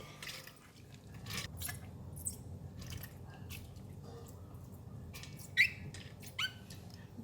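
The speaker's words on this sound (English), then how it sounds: "So I'm going to rinse it one more time and then we can go and boil it." Soaked barley is rinsed with water, giving soft sloshing and squishy grain sounds with several sharper drips and splashes, close and fairly quiet, without talking.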